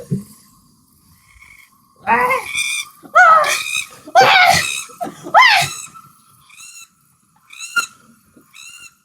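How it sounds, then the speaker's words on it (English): Loud, harsh calls of a black-footed albatross come in repeated bursts, with braying, wheezing cries followed by softer, higher whistled notes at the end. "The black-footed albatross."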